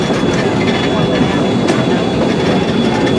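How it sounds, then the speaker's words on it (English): Steam locomotive boiler blowdown gives a loud, continuous broadband roar and hiss of escaping steam and water, steady and close for the whole stretch with no breaks. "So you just saw how we clean the boiler out and blow it down."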